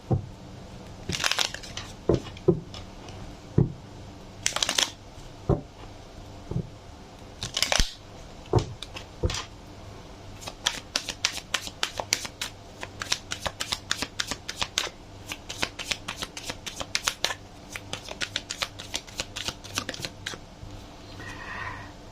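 Tarot cards being shuffled by hand in repeated quick riffling bursts, close and fairly loud, with brief pauses between handfuls and a denser run of crisp card flicks toward the end.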